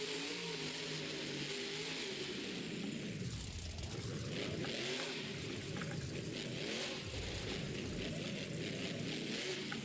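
A monster truck engine revs and roars at a Monster Jam World Finals racing event, a steady, distant mid-pitched drone that rises and falls through repeated acceleration surges over arena noise.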